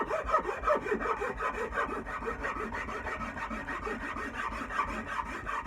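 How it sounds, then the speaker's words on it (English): A hand rasp is worked along a wooden axe handle against awkward grain, producing steady, rhythmic scraping strokes that repeat close-up and fairly loud throughout, with no talking. "I usually can rasp the opposite way, going up, but this one here, the grain's going the opposite way"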